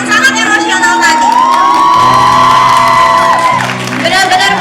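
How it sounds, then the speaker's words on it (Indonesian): A school audience cheers and shouts after a student drama performance, with loud whoops and excited voices over a sustained crowd roar and some scattered clapping. "Beri tepuk tangan sekali lagi untuk penampilan Rahma yang sangat emosional tadi."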